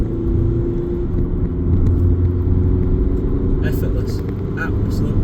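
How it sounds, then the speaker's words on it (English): A Skoda Yeti 2.0 TDI DSG 4x4 accelerates on the road, its diesel engine producing a steady low rumble with road noise from inside the cabin. "I'm going to put my foot down and let's see how fast it goes."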